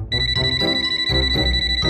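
A telephone ringing as a call is placed, a steady electronic ring tone repeating in even pulses, loud and close with no voices over it.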